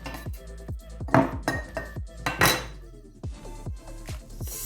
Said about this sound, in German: Also die Zwiebel in das Glas geben.